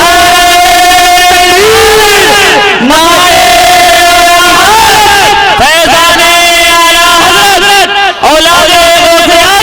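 A large religious gathering chants slogans in unison, loud, close, harmonic voices swelling in repeated call-like waves with short breaks between rounds.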